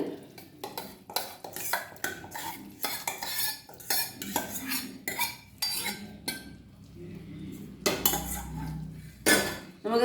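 A spoon stirs sesame payasam with cooked sago in a metal pot, giving repeated close scraping strokes and sharp clinks against the sides in an uneven rhythm, with brief pauses between movements.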